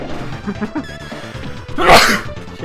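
Sneezing in the video game Mighty Morphin Power Rangers: The Movie, a single loud, sharp burst from the game audio over chiptune music and effects.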